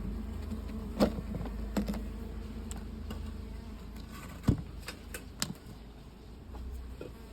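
Stingless bees of the uruçu nordestina species feed at a hive box, giving a faint, steady buzzing hum broken by a few soft knocks and taps, with no voices.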